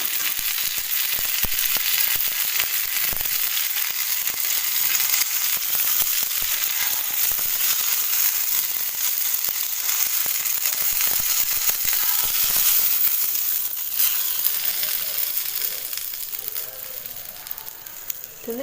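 Semolina-coated fish, rava fry seasoned with homemade fish masala, sizzles loudly and continuously in hot oil in a pan, a dense crackling hiss that eases slightly toward the end.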